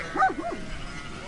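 A sheepdog named Maraima gives a single short bark, close and fairly loud, then quiet follows.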